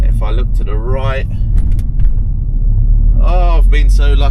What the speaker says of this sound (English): I've got to put my foot down a little bit, but we're away. We're in third still. You can probably hear the revs really